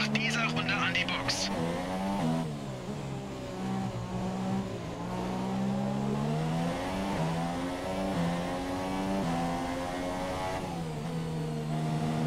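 Formula 1 race car engine in F1 2017 qualifying at the Mexican Grand Prix, a high steady whine that rises and falls through gear shifts across the lap, with someone talking over it.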